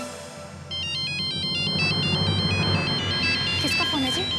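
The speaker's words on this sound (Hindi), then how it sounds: "किसका फोन है जी?" A phone ringtone plays loudly, a repeating electronic melody of short bright tones over a busy background of music and voices, with the pattern changing near the end.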